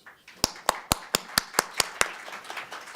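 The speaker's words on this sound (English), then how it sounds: "Please give him a round of applause." A small conference audience claps to welcome a speaker, with about eight distinct sharp claps in a steady, sparse rhythm followed by a brief softer tail; no talking over it.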